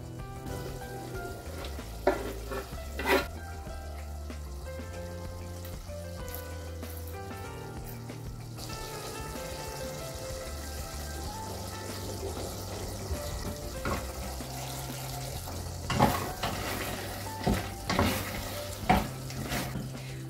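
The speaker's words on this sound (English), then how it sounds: "So here I'm going to be adding in my tomatoes chopped." Chopped tomatoes fry in a pan for a rice and beef stew, a soft continuous sizzle with occasional clinks of a spoon stirring, heard alone under steady background music.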